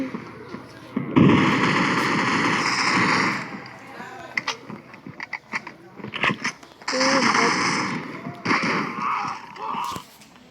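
Rapid gunfire bursts from a first-person shooter game called Ops ring out close and loud, with short pops and thumps in uneven volleys, a voice talking over and between the shots.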